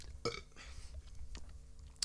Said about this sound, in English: I need a burp again.